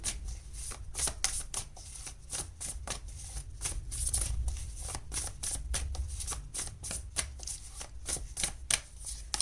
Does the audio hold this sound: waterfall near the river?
no